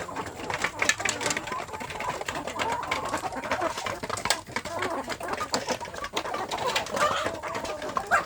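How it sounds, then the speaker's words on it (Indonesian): Free-range village chickens (ayam kampung) on an Indonesian smallholding cluck and call in a busy, continuous chorus close by, with some dove-like cooing and faint voices in the background. "yang ada di sini itu ayam kampung yang masa mengerami tapi tidak mengerami ya"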